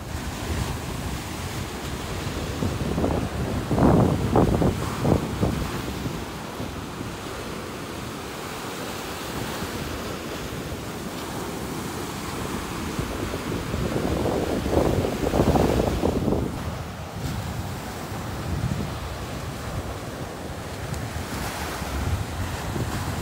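Ocean waves surge and wash ashore on Pensacola Beach at sunset, two louder swells building around mid-clip over steady wind rumble and microphone buffeting, with no talking.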